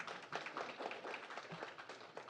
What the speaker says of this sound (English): give her a big round of applause for her birthday